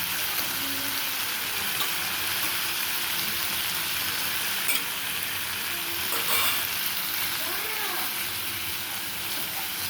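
Masala sizzles steadily in a pan with black mustard paste for an egg curry, a constant close frying hiss with soft stirring scrapes throughout.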